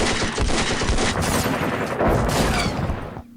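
Heavy machine-gun fire from .50-caliber guns on Huey helicopters in the Vietnam war game Campaign Series, loud sustained bursts of rapid shots for about three seconds, then stopping abruptly.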